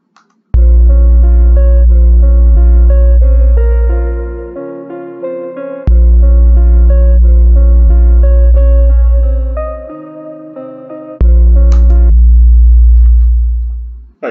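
Deep, booming 808 bass synthesized in Reason 11 plays three long sustained notes, each starting loud and fading slowly with a rich low tone, alone with no talking.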